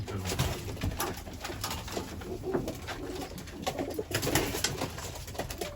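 Roller pigeons coo softly in repeated throaty phrases against a busy background of rustling and faint chatter, with no clear talking.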